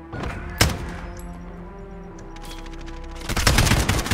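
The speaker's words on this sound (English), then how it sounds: "He's using the AK." AK rifle fire in a Call of Duty: Modern Warfare Search and Destroy match, with a sharp shot early and a rapid automatic burst near the end over a quieter stretch of game sounds.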